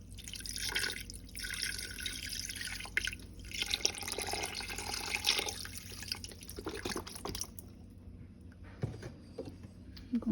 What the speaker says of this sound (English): I'm also going to pour my beef stock in here